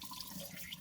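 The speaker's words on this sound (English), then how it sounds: "go right down with water, cold water running on the scales" Cold tap water runs steadily over fish scales while a round fish is being scaled at a sink, giving a soft, continuous, fairly quiet rushing splash.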